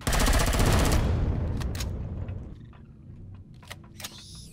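Burst of automatic gunfire in Empyrion Galactic Survival, loud and dense at first, then trailing off into scattered distant shots and faint game effects.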